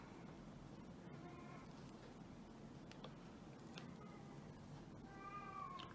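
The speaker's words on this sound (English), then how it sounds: "It's the cat." A house cat meows a few times in a quiet indoor room, faint and somewhat distant over low background hum, with no talking.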